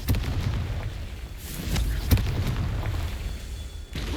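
Blasting-spell explosions in Hogwarts Legacy, a dull boom at about 1.4 s and a sharper one near 2.1 s, set over a steady low rumble of game ambience and soft effects.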